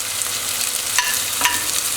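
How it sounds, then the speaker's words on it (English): Vegetables sauteing in a pan with a steady broadband sizzle, plus a couple of soft stirring scrapes midway. "And while that is sauteing"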